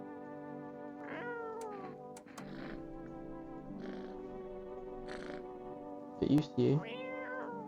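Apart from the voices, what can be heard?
cat meowing while being petted in video game I'm Not A Human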